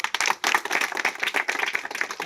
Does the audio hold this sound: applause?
yes